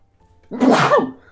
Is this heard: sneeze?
yes